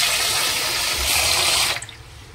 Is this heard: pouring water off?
yes